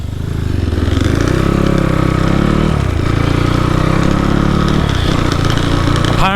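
Several dirt bike engines run loudly and close by on a trail outing in Jintang, China, with a continuous buzzing drone and revs rising and falling, with no talking.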